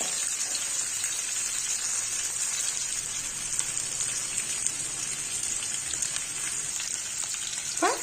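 Mustard and fennel seeds fry in hot oil for a fenugreek curry, giving a steady, close crackling sizzle with scattered pops throughout, no voices.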